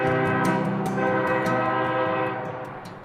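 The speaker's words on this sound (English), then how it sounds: "Big chugging locomotives, rattling bins brimming with endless chunks of the Utah State rock" A coal train locomotive in Utah coal country rumbles past with a loud, steady horn-like tonal drone over heavy rolling rail noise, gradually fading toward the end.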